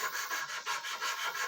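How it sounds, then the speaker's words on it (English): Steady back-and-forth rasping of sandpaper on a wooden blank for a camp axe, held in a vise, rhythmic strokes repeating quickly and evenly, close and fairly quiet. "Would continue sanding the blank."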